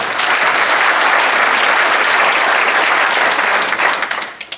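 Audience applause for candidates at a homeowners association board election meet-the-candidates session, a loud sustained round of clapping that tapers off to a few scattered claps at the end.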